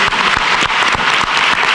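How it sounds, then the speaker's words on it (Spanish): A theatre audience at a language and culture conference claps loudly and continuously for the speakers, a short burst of close, dense applause. "Vamos a darle un aplauso a nuestros ponentes."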